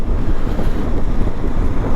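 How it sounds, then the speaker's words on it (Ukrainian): Strong cold wind buffets a motorcyclist's microphone while riding in about 9°C weather, a loud continuous low rumbling roar with gusty fluctuations and no voices. "такий вітер холодний"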